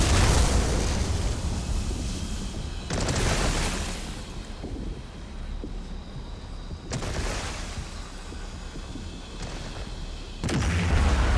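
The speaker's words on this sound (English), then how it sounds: "Now, Proxy, use Abolisher to destroy the loom." In Elder Scrolls Online, the Abolisher destroys a loom with heavy, roaring booms that surge three or four times, rumbling loud and close with no one speaking.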